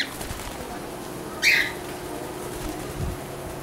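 A pet cockatiel taking off from its open cage, with a single brief burst of wing flaps partway through over a quiet indoor room, followed by faint rustling.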